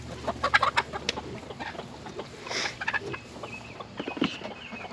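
Farm chickens cluck close by in quick, irregular bursts, several birds overlapping with short pauses between, set against a soft background.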